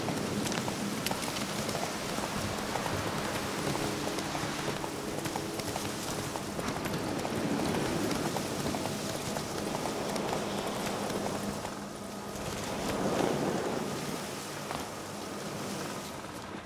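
Horse hooves clip-clopping at a steady gallop in The Witcher 3, a continuous rhythmic patter over ambient rain-like noise, moderately loud and without talk.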